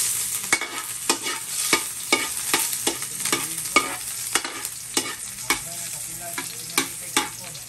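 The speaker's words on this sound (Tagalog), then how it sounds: "Ang init naman, lunod na ako ng ahos," Garlic sautés in a hot wok for Bicol Express, a steady sizzle under brisk, regular stirring strokes that scrape about every half second, close and clear with no talking.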